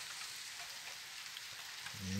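Rain falls steadily as a soft, even hiss of drops that stays faint and continuous throughout, with no voices.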